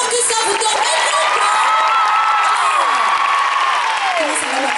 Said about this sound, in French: On peut les applaudir plus fort que ça